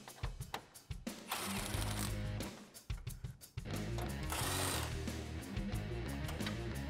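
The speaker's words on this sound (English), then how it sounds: "a 10 millimeter on an impact gun is gonna be a lot faster" An impact gun spins off 10 mm bolts while a 2005-2011 Toyota Tacoma's headlights are removed: several close, loud bursts of rattling, hammering whirr, short ones first and then longer runs, separated by brief pauses.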